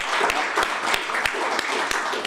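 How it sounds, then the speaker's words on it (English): An audience claps for the organisers at the close of a conference, a steady spread of applause with a few sharp individual claps standing out over the brief span. "So I think big round of applause."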